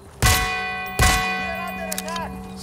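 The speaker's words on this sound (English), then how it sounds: "Celebratory bell ring." Two loud metallic bell clangs ring out close together in Sniper Ghost Warrior Contracts 2, the second strike following about a second after the first, each with a long shimmering decay.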